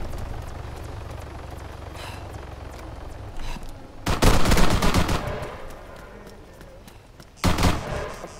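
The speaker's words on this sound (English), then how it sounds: "There's rebels here! They're shooting and shit." Rebel gunfire in Arma 3 Altis Life, with quiet low rumble first, then a few faint shots, followed by two loud close bursts of automatic fire separated by a few seconds.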